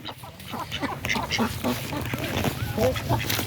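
Pet domestic ducks at a pond's edge quack repeatedly in short, clustered calls close by, with someone talking at the same time over a low steady hum.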